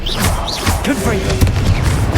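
A Confringo explosive spell blast goes off in Hogwarts Legacy, a dull booming burst amid dense, busy game sound and overlapping voices.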